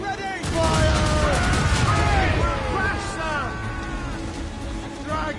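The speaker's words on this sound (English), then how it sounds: "Cannon ready! Fire!" Ship cannons firing in a naval battle in Assassin's Creed Rogue, a dense barrage of booms and crackling blasts rolling continuously under loud shouting crew voices.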